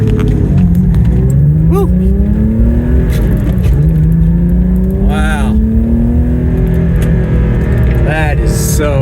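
A BMW M635 CSi accelerating on the road, its engine note climbing steadily and loudly through the gears from inside the car, with a brief shift dip, as the driver whoops and exclaims over it.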